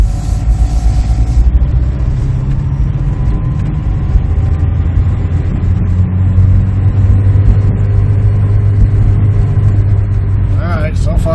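A 1992 SAAB Turbo engine runs steadily as gears are tried, a loud, close, continuous drone and rumble with someone talking over it.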